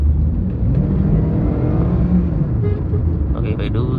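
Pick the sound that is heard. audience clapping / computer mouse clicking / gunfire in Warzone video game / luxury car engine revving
luxury car engine revving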